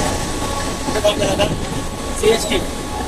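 A crowded Mumbai Central line local train runs along with a continuous rumbling, rattling roar, while voices murmur faintly beneath the noise.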